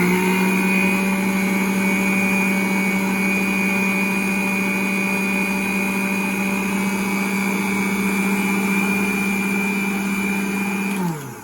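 Electric mixer whirring steadily as it blends cake pop batter, a loud constant motor drone with a fixed pitch that runs unbroken for about eleven seconds, then winds down abruptly as it is switched off.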